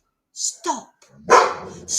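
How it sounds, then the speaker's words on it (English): A chihuahua barks in several sharp, high yaps spaced apart, loud and close, in a quiet indoor setting with no other sound between the barks. "It's the bloody chihuahua barking."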